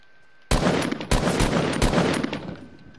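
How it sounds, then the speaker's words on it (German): A turret in Fortnite fires three loud, sustained bursts of rapid gunfire, close and harsh, each starting abruptly with brief gaps between them, with no talking. "Hört ihr es? Die ganze Zeit, wie so jemand mit der scheiß Waffe ballert."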